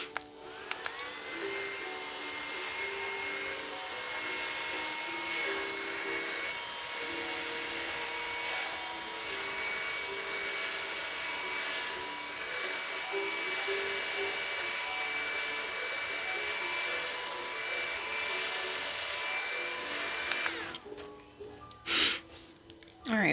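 A hair dryer blows steadily up close to dry skincare on the face, a sustained whirring hum for about twenty seconds before it cuts off, followed by a few brief handling sounds.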